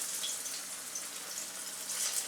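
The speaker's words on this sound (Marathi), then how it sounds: "तेल मी गरम करत ठेवलेलं आहे, फ्राय करून घेणार आहे।" Jowar flour methi vadi frying in hot oil over a medium gas flame, a steady soft crackling sizzle with fine bubbling, even and unbroken throughout.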